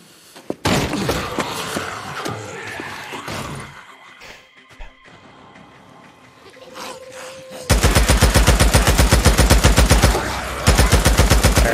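Loud, rapid gunfire from the video game Days Gone rattles in sustained automatic bursts, preceded by scattered shots, crashes and impacts, all close and aggressive.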